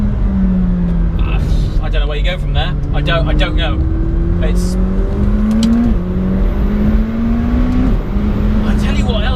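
A McLaren 720S engine revs climbing and dropping through quick gear changes at steady loudness, with someone talking over the constant roar inside the car.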